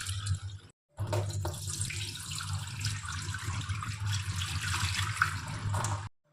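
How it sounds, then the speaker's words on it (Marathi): Rice and fenugreek seeds being rinsed in water for idli batter, a steady running, splashing wash with a brief break near the start, close and fairly loud with no talking. "अर्धा चमचा मेथी, ते चांगलं धुवून घ्यायचं. हे 2 पाण्याने चांगलं धुवून घेतलं मी"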